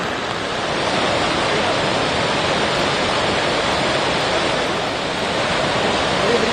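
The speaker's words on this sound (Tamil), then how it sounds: "ஜம்மு காஷ்மீரில் தாவி ஆற்றல் அபாய கட்டத்தை தாண்டி பெருக்கெடுத்து ஓடும் வெள்ளம்." Floodwater from the Tawi river in Jammu and Kashmir, running above the danger mark, makes a steady, loud, broadband roar that fills the whole stretch without pause and carries no voices.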